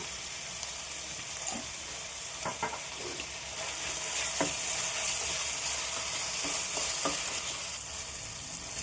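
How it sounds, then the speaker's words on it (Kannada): Tomatoes cook in a pan until soft with a steady, even sizzle, broken by a few sharp scrapes and clicks of a spoon being stirred through them, all close and without speech. "ಟೊಮೆಟೊ ಮೆತ್ತಗಾಗೋವರೆಗೂ ಸ್ವಲ್ಪ ಫ್ರೈ ಮಾಡ್ಕೊಳ್ಳೋಣ"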